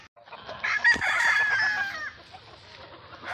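Backyard chickens clucking while a rooster crows close by, one long crow rising and fading near the start, followed by quieter clucks and calls.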